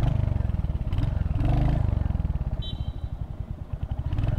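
A Royal Enfield Hunter 350 motorcycle's engine and exhaust thump close by in a steady, loud, low pulsing beat, with a brief rise in revs midway and a slight clatter, no one talking.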